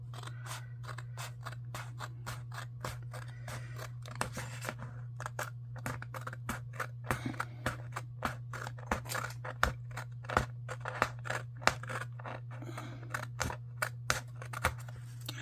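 Scissors trimming paper for a planner: a long run of crisp, close snips in an uneven rhythm, growing sharper and more frequent toward the end, over a steady low hum.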